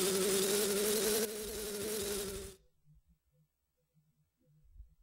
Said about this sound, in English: Tattle, it's just a bee! I can kill those in one hit